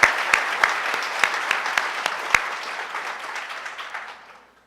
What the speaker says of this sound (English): That's another round of applause to our graduates.